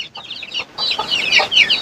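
A rooster clucks and chatters in short bursts, close and fairly loud, with other fowl sounds mixed in and no voices.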